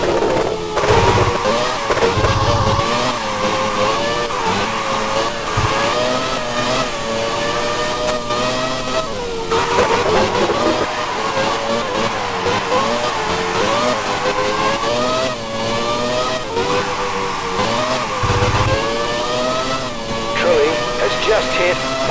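A Formula One car engine whines as it leaves the pit lane in the PS2 game F1 Career Challenge, a loud, continuous high engine tone rising and falling with gear changes, a commentator's voice talking over it.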